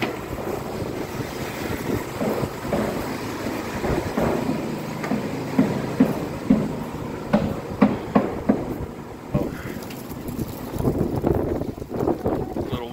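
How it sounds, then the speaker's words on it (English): Gusty wind rumbles and buffets the microphone at an outdoor construction site with precast concrete walls, a fluctuating low roar with irregular thumping bursts throughout. "A little windy out here,"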